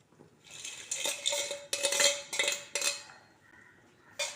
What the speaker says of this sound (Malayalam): നന്നായിട്ടൊന്ന് ഇളക്കി യോജിപ്പിക്കുക